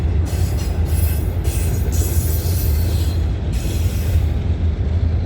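A freight train with a DPU locomotive rolls past at night. Heavy rumbling rail noise is broken by intermittent metallic wheel squeals and clatter, close and continuous throughout.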